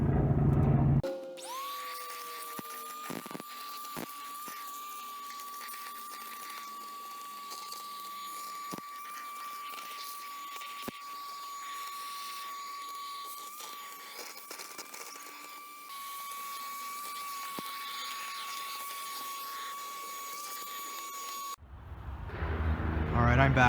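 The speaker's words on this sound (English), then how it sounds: "I vacuumed everything out here" A small vacuum cleaner whines at a steady high pitch for about twenty seconds inside a SAAB 9-3/900 car, with occasional clicks, starting and stopping abruptly.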